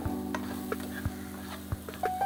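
Spices are sautéed in a pan for Chettinad chicken, with a soft, faint frying hiss broken by a few sharp spatula taps and scrapes at an uneven pace.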